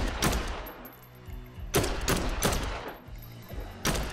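Gunfire in the zombie game Dead Island 2, where loud, close shots come in several separate bursts with short gaps between them, and no voices.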